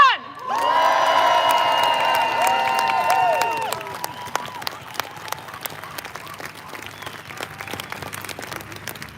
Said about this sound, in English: I want a massive round of applause.